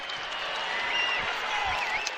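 A basketball arena crowd cheers and applauds after a basket at a Georgia versus East Tennessee State game, a dense, steady roar with no break.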